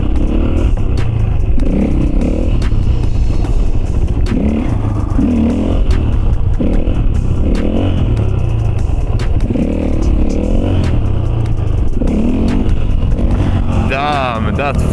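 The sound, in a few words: Husqvarna FE450 four-stroke motorcycle engine revving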